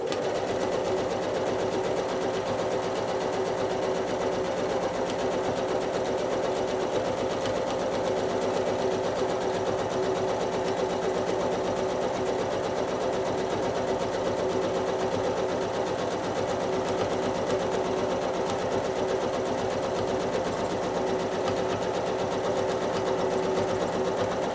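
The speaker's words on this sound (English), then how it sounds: "the closer I get to the bottom of the block, the easier the quilting goes" A sewing machine quilts lines and curves across a rail fence block, a steady, fast mechanical whir and needle chatter running unbroken and close throughout, alone without speech.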